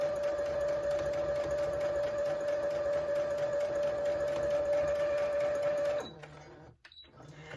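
A sewing machine runs steadily, stitching a 1/4 inch seam through quilt fabric with right sides together, a loud continuous motor hum and needle drone that stops abruptly near the end.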